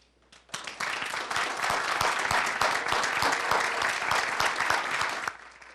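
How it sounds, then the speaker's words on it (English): An audience at a Richmond fire department promotion ceremony gives the promotees a loud, dense round of applause that starts abruptly, holds steady for about five seconds, then stops. "if we can just give them collectively a round of applause"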